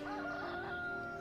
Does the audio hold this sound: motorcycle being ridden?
no